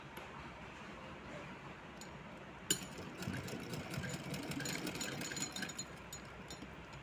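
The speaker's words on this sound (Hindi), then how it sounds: "हम एक सिलाई लगा लेंगे।" A sewing machine stitches fabric for a small dhoti and kurta outfit, a soft mechanical whir that starts after a click partway through and runs quietly and continuously nearby.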